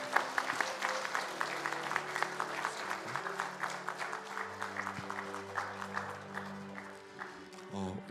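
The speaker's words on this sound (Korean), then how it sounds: "박수 쳐주시기 바랍니다" Applause at a Sunday joint cell-group worship service at a church, steady clapping from a congregation with sustained organ or keyboard tones underneath, fairly quiet and continuous.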